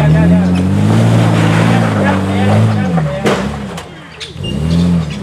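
A 4x4 crawls a technical off-road track in the Watagans, its engine a loud, close, labouring drone that rises and falls as it climbs, with voices talking over it.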